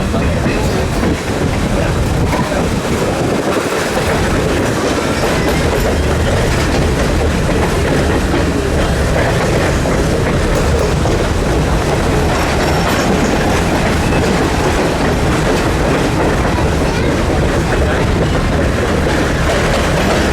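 A train rumbles steadily along the tracks nearby, with continuous clattering wheels and a low, heavy roar that never lets up.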